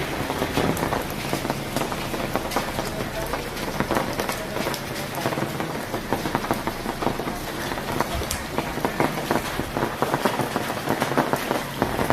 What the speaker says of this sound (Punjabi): ਹੋਰ ਮੀਂਹ ਪਈ ਜਾਂਦਾ ਜੀ